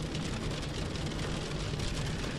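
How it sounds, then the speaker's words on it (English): Rain falls steadily at dawn around a shopping mall car park, a loud, dense, unbroken hiss with a low rumble underneath, heard alone without speech. "It's raining, of course."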